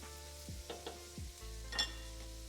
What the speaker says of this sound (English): Is the mic picking up that wonderful sizzle? That poetic sound?